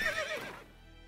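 A single horse whinny from the video game The Witcher 3 as the horse bucks, a wavering high neigh that drops in pitch and trails off, close and clear.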